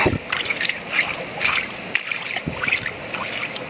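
Water splashes and sloshes at a freshly dug spring, with irregular close splashes and trickling over a few seconds, and a person faintly audible in the background.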